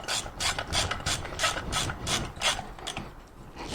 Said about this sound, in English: now we'll grab our box wrench using the rounded side and the Allen key